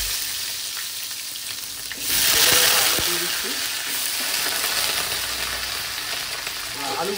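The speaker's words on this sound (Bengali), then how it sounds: "আলুগুলো দিয়ে কিন্তু সুন্দর করে একটুখানি নাড়াচাড়া করে ভেজে নিতে হবে।" Cut potatoes hit hot oil spiced with cinnamon and cumin seeds, bursting into a loud sizzle midway, then fry with a continuous crackle while a utensil scrapes and stirs them.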